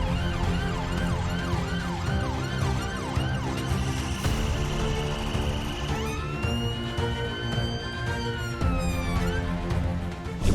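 An ambulance siren blares in a street blocked by protesters, its wailing tone sweeping up and down loudly and continuously over the rumble of traffic.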